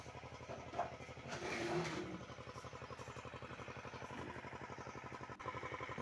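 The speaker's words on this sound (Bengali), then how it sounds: "সামনে পাওয়ার টিলার চলছে।" A power tiller engine runs in a farm field near a jackfruit tree, a steady mid-pitched chugging drone that holds throughout with a brief louder swell early on.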